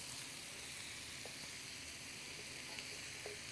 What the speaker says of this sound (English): So we're just going to let that saute for a little while.